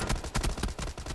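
Gunshots from the battle royale game PUBG crack in a quick string of about six or seven close, sharp bangs in rapid succession.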